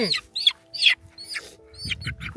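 A rooster gives several short, sharp clucks and squawks in quick succession, close by at a traditional Deurali puja in a highland village, with a soft low murmur in the background.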